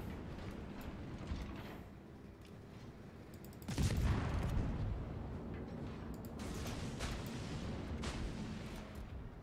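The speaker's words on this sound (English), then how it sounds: "Oh, now he started shooting." Heavy warship gunfire in World of Warships, a dense rumbling boom of naval artillery that bursts in sharply near the middle, then rolls on as sustained low salvos and distant blasts.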